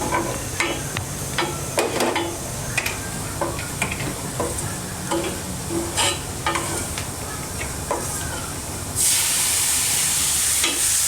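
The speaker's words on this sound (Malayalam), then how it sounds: "ഈ മസാലകളുടെ പച്ചപ്പ് മണം മാറിയതിന് ശേഷം നമുക്ക് അതിലേക്ക് തക്കാളി ഇട്ട് കൊടുക്കാം" Tomatoes dropped into hot masala in a pan sizzle loudly and steadily, with scraping stirs and intermittent clatters of the spoon, and a sharper hiss swells near the end.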